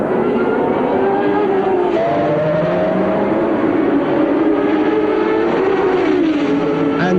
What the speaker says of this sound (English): And John Watson leaving his braking for the last possible moment, and outbreaks Lafitte into the lead in the Long Beach Grand Prix.